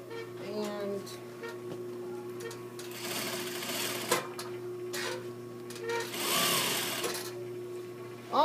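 A sewing machine runs a back stitch and then sews forward along a seam, its steady mechanical whir rising and falling in bursts, close and clear, with a hum underneath.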